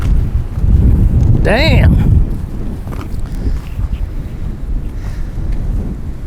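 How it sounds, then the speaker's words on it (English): Cold, strong wind gusts roar across a microphone outdoors on a snowy day, loud and continuous, while someone speaks briefly over it. "It's cold and windy."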